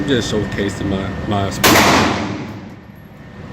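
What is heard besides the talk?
gunshots from Springfield XD M9 pistol at indoor range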